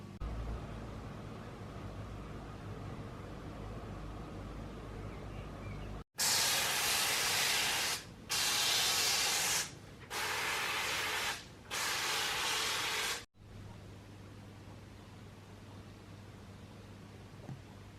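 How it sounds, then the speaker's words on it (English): Four loud bursts of hissing spray from an aerosol can applying homemade lanolin rust-prevention coating to a metal test sample, each lasting about a second with brief gaps, close and dry against a quiet room. "I'm just going to give this one really good coat of Lanolin on the underside and the top side"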